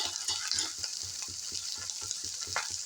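Pav bhaji mixture with chutney and turmeric being sautéed in a pan, a steady close sizzle with rhythmic scraping and stirring strokes from a spatula, no voices.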